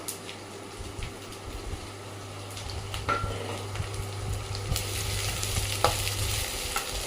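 Green chillies and black-eyed peas fry in a pan for a guggillu snack, giving a continuous close sizzle with occasional light scrapes of a stirring spoon over a low, steady hum.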